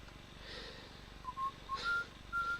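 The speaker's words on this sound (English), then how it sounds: "This is a recording of me whistling the French national anthem" Someone whistles the French national anthem, a few thin, clear sustained notes rising over a faint hiss, starting about halfway in and carrying on to the end, quiet and close.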